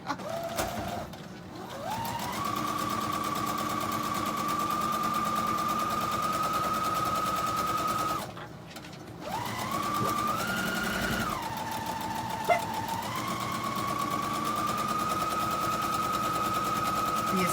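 A sewing machine runs steadily, stitching a seam on a simple holiday table runner, a sustained motor whir in long continuous runs broken by two brief pauses, close and fairly loud.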